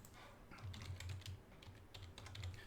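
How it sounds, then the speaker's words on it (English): Quiet, steady typing on a computer keyboard, soft irregular key clicks in quick runs with brief pauses, close and alone without talk. "I guess I should type that into the notes"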